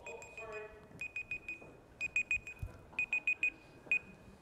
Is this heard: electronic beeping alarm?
yes